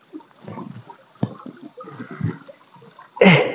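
Water splashing as someone wades across a cold river, intermittent soft sloshes and stirring as legs push through the current, ending in a louder, sharper splash at close range.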